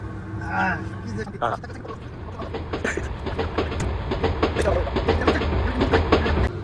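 A train rumbles along the tracks with a rhythmic clickety-clack, while people talk over the steady rattling of an air-conditioned berth carriage on a local train from Chittagong to Dhaka, Bangladesh.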